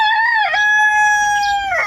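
A single loud rooster crow rings out close by, long and rising, with no talking around it.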